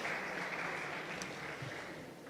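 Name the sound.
audience applause for a panelist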